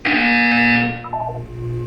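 A loud electronic buzzer from the Portal 2 video game sounds as one sustained harsh tone for about a second, then drops away into a lower electronic hum.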